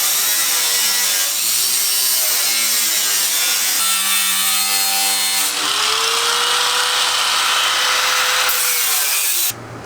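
A power tool cuts a metal piece for a fender vent on a K20 Integra, whining loudly and steadily with shifting pitch as the blade bites, then stops abruptly at the end.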